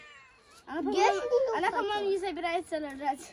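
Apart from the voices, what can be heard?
pregnant cat meowing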